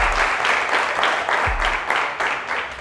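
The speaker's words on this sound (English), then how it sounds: "Let's give them a huge round of applause," Audience applause for contestants at a secondary schools quiz challenge, a sustained broad clapping from a hall crowd, moderately loud with slight swells.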